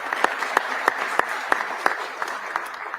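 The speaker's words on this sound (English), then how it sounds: "Yeah, that's worth a clap." A small audience at a neighborhood economic development event claps sparsely, with a handful of distinct, fairly evenly spaced sharp claps standing out over a light background patter.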